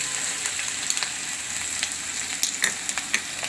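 Garlic, ginger and chillies sizzle steadily in hot oil for a Gujarati whole-onion curry, a bright, close crackle with light clicks of stirring.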